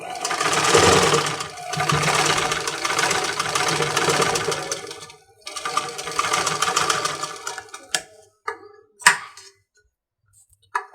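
A sewing machine stitches piping onto a designer baby frock, running in loud bursts of rapid mechanical whirring separated by pauses, followed by a few short clicks and taps.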